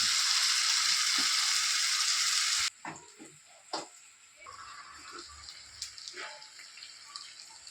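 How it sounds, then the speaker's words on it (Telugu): Dried fish frying in a pan and being turned to the other side, a loud bright sizzle that cuts off sharply, then quieter crackling with a few scraping clicks. "ఇవన్నీ కొంచెం పక్కకి ఒకవైపు అంతా ఫ్రై అయినా రెండో వైపుకి టర్న్ చేస్తున్నాను అనమాట"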